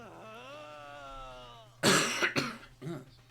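A short run of harsh coughs and throat clearing from a video game character bursts out after a held, tonal vocal sound, close and fairly loud.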